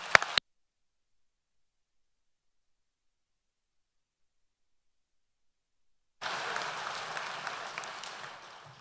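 Applause from a graduation ceremony audience at the University of Texas Permian Basin starts after a long silence and continues steadily to the end, a broad wash of many hands clapping at moderate distance.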